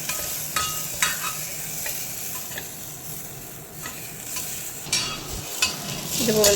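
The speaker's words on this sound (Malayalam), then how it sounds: "ഇത് നല്ലപോലെ ഇളക്കിയതിന് ശേഷം" Mutton curry with curry leaves being stirred in a pan, a steady sizzle under repeated scraping strokes of the spoon, close and moderately loud, with no talk.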